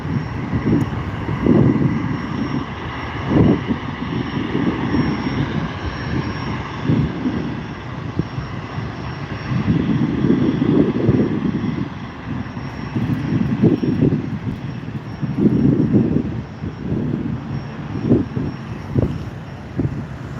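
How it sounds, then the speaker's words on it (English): A Cessna 750 Citation private jet taking off at SNA airport, giving a steady, loud, rumbling engine roar that swells and pulses over about twenty seconds. "We'll pan onto the private jet for a couple minutes while it takes off."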